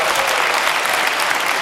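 Steady, dense clapping from a conference audience at the 26C3 congress, a short burst that is uniform and fairly loud from start to finish.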